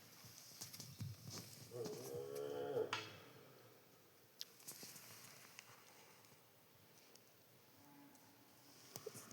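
Cows low outdoors near a large hill. One drawn-out moo rises clearly in the first few seconds, then fades to quiet open air broken by scattered clicks and knocks.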